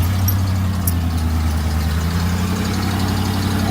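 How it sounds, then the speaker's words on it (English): A 1994 Ford F-150 XLT idling with an old, leaking exhaust manifold, a loud steady low engine drone with a rapid puffing, knocking pulse running throughout, close up and without voices. "they will emit a very nasty noise that kind of sounds like it's just puffing a bunch of air"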